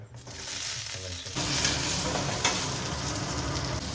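Green chillies frying in a spoonful of oil in a pan, a steady close hiss that rises to a fuller sizzle after a moment and continues unbroken.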